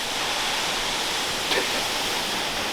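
A small waterfall in the Welsh valleys roars as a dense, steady broadband rush, close and unbroken, with no voices.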